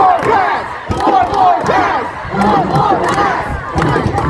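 A large crowd at a Renaissance fair joust cheers and yells in loud, surging waves, with shouts and battle cries rising and falling close by throughout.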